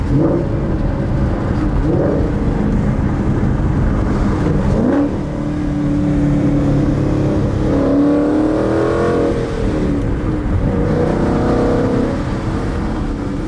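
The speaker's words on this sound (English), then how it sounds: "Let's see how the new exhaust sounds." A car with a new aftermarket axle-back exhaust, fitted alongside a sway bar and diffuser, revs and drives steadily with a loud, continuous droning engine note and rising and falling pitch sweeps, close and prominent throughout.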